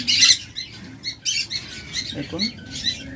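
A pair of green opaline pet birds, shown at a bird sale, gives repeated short high chirps and squawks nearby, while someone speaks briefly over them.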